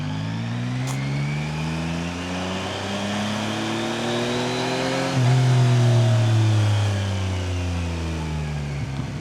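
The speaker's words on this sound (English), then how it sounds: "Oh my god, it sounds so good, man. This bike sounds so good." A 2025 Yamaha MT-09 motorcycle engine with stock exhaust revs up and down in smooth, rising and falling sweeps, swelling louder midway before easing off, with no talking.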